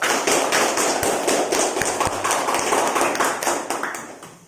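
Classroom applause for students who have just read aloud: a dense, steady wash of many hands clapping together, loud and continuous for the whole span, then tapering slightly at the end.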